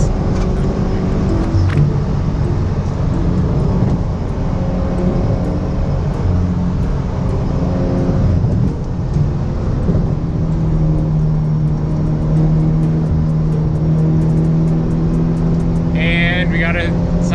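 A supercharged Subaru FRS sports car runs close by with a steady droning engine note that climbs in pitch toward the end, a sharp burst of higher tones near the finish.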